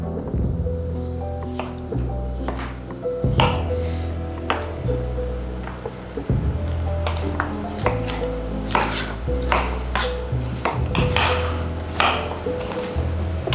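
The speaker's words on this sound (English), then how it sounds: "We're going to leave the skin on and we're just going to dice them." A knife dicing fresh beetroots with the skin on against a cutting board, a series of close, crisp chops in uneven bursts over a low background hum.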